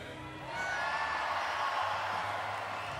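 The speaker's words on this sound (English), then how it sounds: "How loud you can cheer? 3, 2, 1, go." A large arena crowd at a Canada versus Mexico women's wheelchair basketball classification playoff in London swells into a loud, sustained roar of cheering and whooping that holds steady at a distance.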